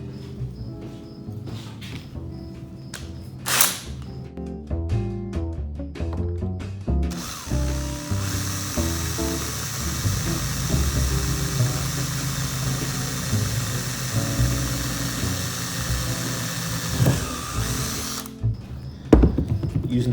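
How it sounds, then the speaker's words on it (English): A power drill bores quarter-inch holes for eye bolts while building a dipole antenna: short start-stop bursts early, then one long sustained whine of drilling before it stops. "I'm gonna start making some of the drills, some of the holes for the eye bolts"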